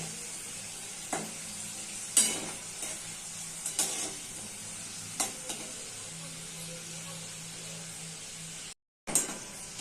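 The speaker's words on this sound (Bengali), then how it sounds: "তেলটাকে গরম করে নিয়েছিলাম ভালো করে, তারপরে আমি গ্যাসটা সিম করে দিয়ে ভাজছি" Nimki frying in hot oil on a low flame, a soft steady sizzle broken by occasional louder crackles and light scrapes, no talk.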